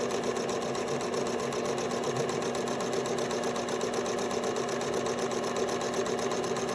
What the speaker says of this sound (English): I'm just going to run a few rows of zigzag.